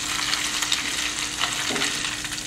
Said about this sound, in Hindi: अदरक और हरी मिर्च का कच्चापन चला जाए तब तक भुनेंगे इसको।